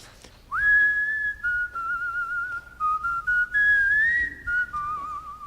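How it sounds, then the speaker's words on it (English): A man whistles a wandering, unplotted tune, clear and close, in a string of sustained notes that slide between pitches with short breaths in between. "You just whistled."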